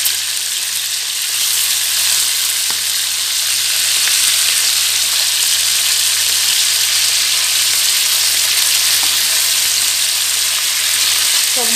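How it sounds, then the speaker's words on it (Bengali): Pieces of Shankar fish (stingray) fry in a pan, giving a loud, continuous oily sizzle that holds steady throughout, with a faint steady hum underneath and no talking. "পিসটা ভালো করে ভাজা হলেই তুলে নেব।"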